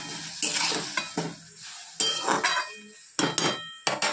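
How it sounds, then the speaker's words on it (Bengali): Vegetables frying in a pan, heard as close sizzling broken by several separate bursts of stirring and scraping with brief quieter gaps between them. "এটা আস্তে আস্তে ভাজা হবে"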